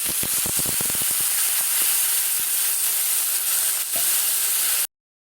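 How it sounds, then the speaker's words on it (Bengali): Water poured into a hot pan of frying potatoes bursts into a loud, steamy sizzle with a few sharp crackles at the start, then settles into a continuous hiss before stopping abruptly. "তারপর এর মধ্যে দিয়ে দেব জল।"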